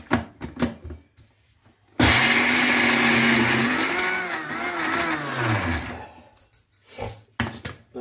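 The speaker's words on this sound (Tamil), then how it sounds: "வச்சு நல்லா அரைச்சிக்கோங்க மிக்ஸியில்." Mixer grinder whirring loudly as it grinds a thick, low-water banana flower and dal mixture with asafoetida, a steady motor roar with shifting pitch lasting several seconds, framed by short stop-start pulses before and after.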